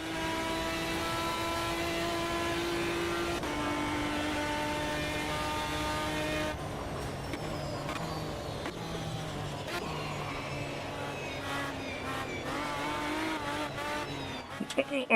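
Race cars in the sim racing game AMS2 roar at high revs, engine tones dropping and shifting as they brake hard into a downhill braking zone, with tire noise and a sustained loud drone throughout, ending in a brief sharp burst.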